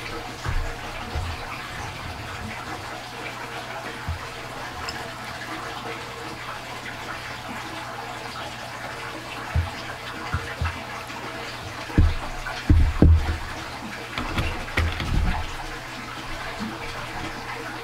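A homemade margarita is poured into a glass for a New Year's party, a soft steady liquid trickle under faint room noise, with a few louder splashes and clinks near the end.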